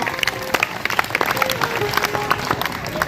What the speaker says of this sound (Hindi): एक बार जोरदार तालियां बजाकर सभी स्वागत करें।